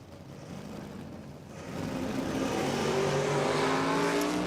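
A drag racing dragster launches down the strip at Willowbank Raceway in Queensland, a roar swelling quickly from a distant rumble to a loud, sustained engine howl.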